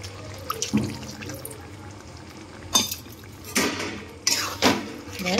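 Cornflour slurry being stirred into chili chicken in a pan, with a few scattered metallic scrapes and clinks of a utensil against the cookware, close and moderately loud, with quiet gaps between.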